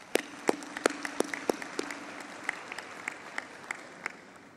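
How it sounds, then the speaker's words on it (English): Audience applause at a University of Pretoria autumn graduation ceremony for the Faculty of Natural and Agricultural Sciences, with a few sharp, distinct claps standing out over a softer, steady patter that thins out toward the end. "Let's give them a round of applause."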